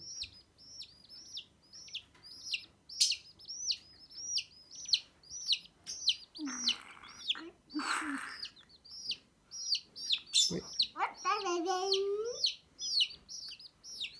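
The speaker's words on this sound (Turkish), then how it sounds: "Çok tatlı bu civcivler ya" High, repeated peeping of baby chicks chirps in a quick, steady rhythm, close by, with a few louder bursts of noise and voices partway through.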